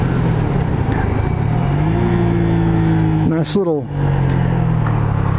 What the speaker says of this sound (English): Nice little exhaust note on trailing throttle and downshift.